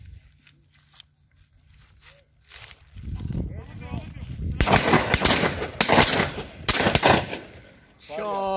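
Gunfire at a pheasant shoot outdoors, a series of sharp shots cracking out over several seconds amid loud background noise, with people talking.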